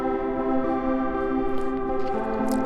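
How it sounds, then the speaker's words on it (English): A dreamcore synth arpeggio using the Space Cowboy preset, with sustained, shimmering layered tones that hold steady and loud throughout, heard alone with no talking. "my favorite Dreamcore ARP, which is the Space Cowboy ARP"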